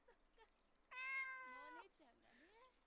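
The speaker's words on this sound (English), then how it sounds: "That cat's loud!" A loud, drawn-out cat meow rises and falls in Corpse Party: Book of Shadows, followed by a softer second mew against quiet background.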